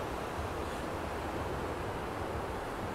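Sea waves washing onto Blackpool beach on a hot May day, a steady broadband surf wash with some wind noise on the microphone, continuous and fairly faint with no voices.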